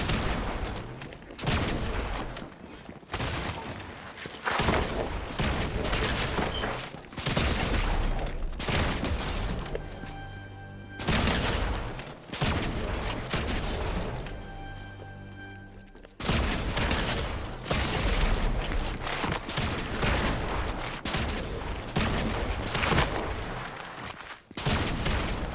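Fortnite gunfire fills the scene with dense, repeated volleys of close shots, broken by brief lulls and one longer gap carrying a faint tonal hum before heavy firing resumes.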